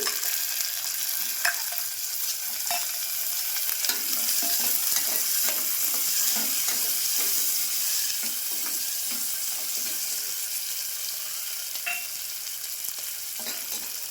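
Green peas are stirred and fried in a pan while cooking rice bath, a soft, steady sizzle broken by repeated light scraping strokes. The sound is close but fairly quiet.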